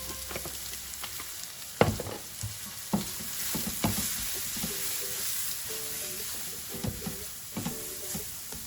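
Leftover fried rice seasoned with Kitchen King masala sizzles steadily in a pan, with a continuous frying hiss broken by sharp scraping stirs and clinks at irregular intervals, fairly close.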